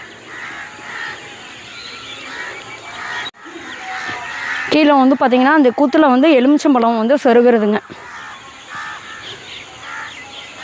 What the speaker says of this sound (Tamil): காக்கா பார்த்திங்கன்னா நல்லா ரவுண்ட் அடிக்குதுங்க